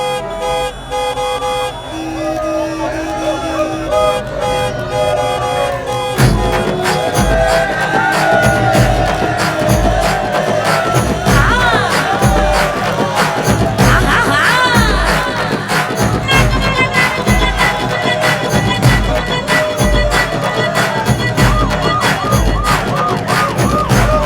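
Busy street crowd gathered in the open, a dense murmur of many voices with car horns tooting and scattered cheering over steady traffic and loud background music throughout.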